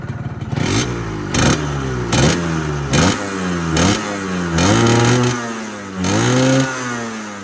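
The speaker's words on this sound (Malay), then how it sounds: "Boleh dengar bunyi enjin kan?" A 1996 Yamaha RXZ two-stroke motorcycle engine revs repeatedly, rising and falling in sharp pitch sweeps with a buzzy, rattling tone, close by and loud.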